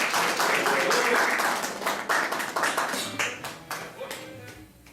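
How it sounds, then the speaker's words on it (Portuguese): Applause for a singer during a church service, a dense crowd clapping loudly at first and gradually thinning, with voices mixed in beneath the claps. "O meu Haroldo, pode salve de palmas para Jesus."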